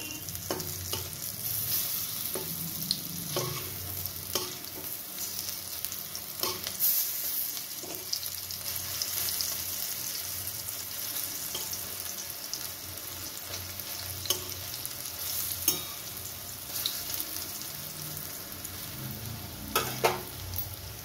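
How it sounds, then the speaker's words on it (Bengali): Drumstick flower fritters frying in oil in a pan, a steady soft sizzle broken by scattered clicks and scrapes as they are turned over, no voices. "আমি এবার বড়াগুলোকে উল্টে দিচ্ছি।"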